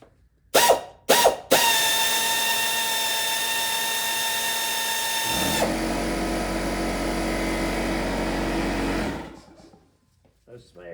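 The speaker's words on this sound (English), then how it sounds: "Let's see if our power tool, spare tool there, is good enough to get it snugged in there." A cordless power tool drives an alternator bolt on a 2009-2013 Toyota Corolla, starting with a couple of short bursts and then whirring in one long, loud, steady run that changes pitch midway and stops, with an air compressor nearby.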